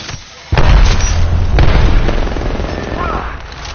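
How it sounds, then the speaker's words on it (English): A grenade blast erupts in a PS4 shooter game, a loud booming explosion followed by sustained rumbling gunfire and crackling bursts that stay dense and close for several seconds. "Eyes up. Grenade."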